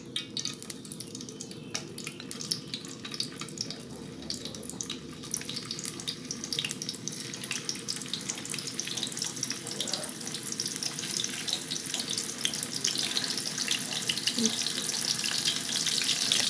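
Oil sizzles and crackles steadily as tofu skin fries, a dense, hissing fry that grows slightly louder toward the end, with no voices.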